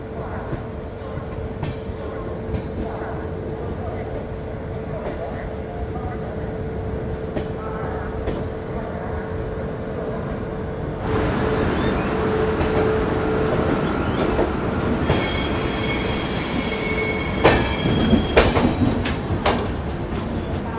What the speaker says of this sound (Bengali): ট্রেন ধীরে ধীরে Pandit Deendayal Upadhyay junction station enter করছে।